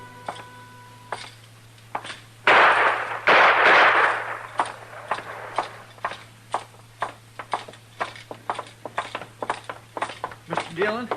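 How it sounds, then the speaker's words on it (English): Gunshot sound effects from an old-time radio western drama crack out in a burst amid a noisy scuffle, followed by a string of sharp, rhythmic clops like hoofbeats, with a steady low hum throughout. "Trimble come in, tried to shoot Cam Spiegel, and Cam killed him."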